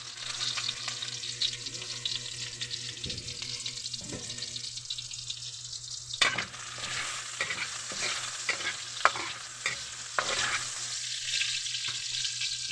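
Garlic and onion sizzling in a pan for pork adobo, a steady close frying hiss with intermittent scraping and stirring clatter, no talk.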